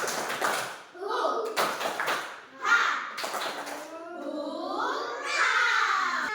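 A primary school class performs a rhythmic clapping routine, with bursts of sharp, patterned claps alternating with chanted voices, close and moderately loud in a classroom.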